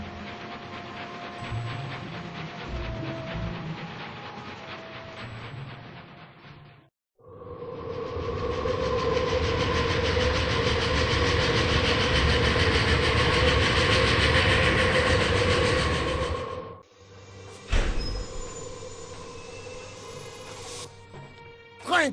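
A train rolls on rails in the Murder on the Orient Express video game: a loud, steady rumbling clatter that breaks off briefly, resumes, then gives way to sharp metallic clanks.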